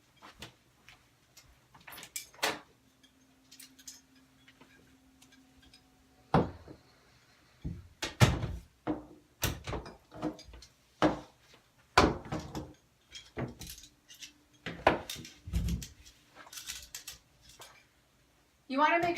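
TRX suspension trainer door anchor being fitted into a door, heard as a series of close clicks, knocks and scraping handling sounds with pauses between them, mixed with occasional talking.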